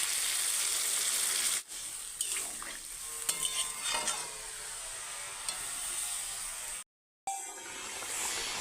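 A cauliflower and egg curry fries hard in oil in a pan, a loud steady sizzle and hiss with stirring scrapes, broken by a brief drop near the end.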